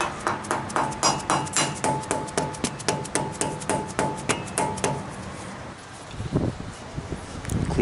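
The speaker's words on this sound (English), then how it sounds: "Tap this seal cap back on with a rubber hammer." A rubber hammer taps a CV axle seal cap back into place on a 2008 GMC Sierra truck, about fifteen evenly spaced sharp knocks close to the microphone, followed by a couple of softer, irregular bumps and handling noise.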